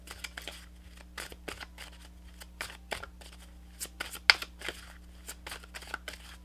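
Tarot cards being shuffled by hand during a reading, a steady series of soft riffling and slapping card sounds, close and quiet over a low background hum, with no talking.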